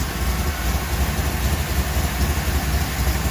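The engine of a 1977 Chevy Camaro under restoration idles at normal temperature, a steady, close, low rumble that continues evenly without any talk.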